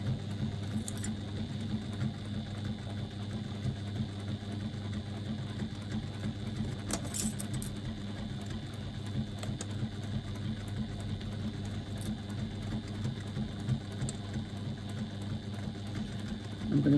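A sewing machine stitches a seam on a bag with a quarter-inch seam allowance, giving a long, steady, even motor hum at moderate distance with no breaks.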